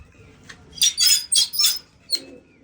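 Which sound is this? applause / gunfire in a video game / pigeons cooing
pigeons cooing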